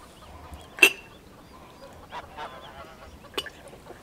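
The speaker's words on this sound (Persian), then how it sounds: "صبحانه رو با سمفونی غازها و صدای قوقل قوقل خروس‌ها" Geese honk on a farm near Sabalan, Ardabil, with one loud close honk followed by a few fainter calls scattered over a quiet background.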